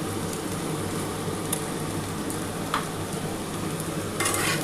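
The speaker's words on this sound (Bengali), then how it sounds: "এবার খুব ভালো করে কিন্তু একটুখানি ভাজা হয়ে গেলে" A poppy seed paste dish for cauliflower and potato posto frying in a pan makes a loud, constant sizzle, with a few sharp crackles standing out near the end.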